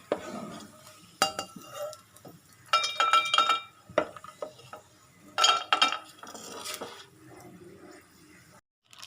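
Roasted red poha being transferred from a pan onto a plate, with scattered metallic scrapes, clinks and rattles of a spoon against cookware in separate bursts amid quiet pauses.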